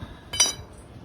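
Metal threaded bar and nuts being handled give a single bright clink near the mic, a brief ringing metallic tap over quiet background.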